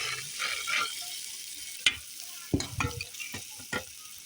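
Mashed potato filling sizzles in a hot pan, a steady quiet frying hiss. A few sharp scraping clicks of a utensil stirring against the pan punctuate it, with no voices.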